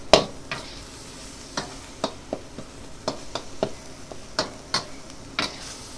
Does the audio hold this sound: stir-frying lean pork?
yes